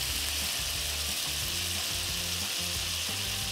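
Venison loin sears in a hot frying pan, giving a steady, close, dense sizzle and crackle with faint rhythmic scraping as the meat is turned, with no voices.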